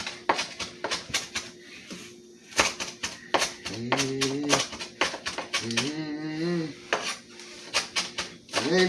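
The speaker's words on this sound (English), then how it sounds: "So we're going to chop up our cilantro." A knife chops cilantro and chives on a cutting board in a home kitchen, sharp rapid taps in irregular bursts, close and clear, mixed with a person talking and a few clinks of utensils.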